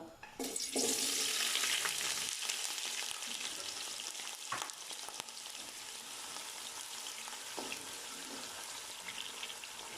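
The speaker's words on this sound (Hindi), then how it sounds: "ऑयल हमारा गर्म हो गया, अब इसमें मैं प्याज डाल दूंगा।" Onions fry in hot oil with a loud, steady sizzle that slowly settles, broken by occasional scrapes and knocks of stirring.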